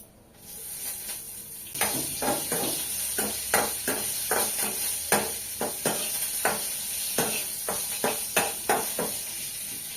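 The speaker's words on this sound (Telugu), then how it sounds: "వీటినైతే మనం వేయించుకోవాలి కాసేపు" Curry leaves and cumin fry in a pan with a soft, constant sizzle, punctuated by a steady rhythm of close scraping stirs.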